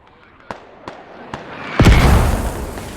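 Mortar shells landing in a military shooter game, several sharp distant thumps spaced apart followed by a louder, closer blast that rumbles out.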